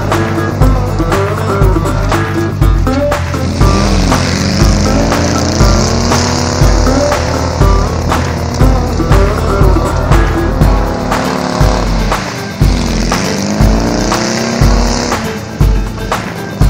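An air-cooled engine on a homemade apocalyptic swamp buggy revs continuously and loudly up close, its pitch rising and falling with throttle blips and a steady rumbling idle underneath.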